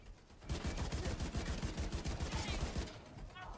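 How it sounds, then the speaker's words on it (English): Slow-firing auto rifle in The Division 2 letting off a steady burst of roughly a dozen evenly spaced, punchy shots, loud and close, with a quieter tail after the firing stops. "Every shot really does count with this because it's such a slow"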